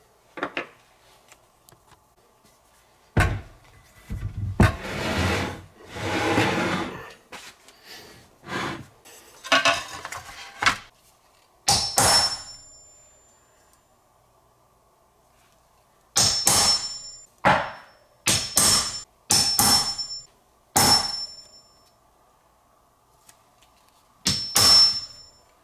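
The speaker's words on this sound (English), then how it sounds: "take a center punch, locate the center of each one of these holes," A center punch is struck hard into metal at each hole mark on a homemade motherboard test bench, giving sharp ringing metallic clangs in separate clusters, close and loud, with bursts of shuffling and handling between strikes.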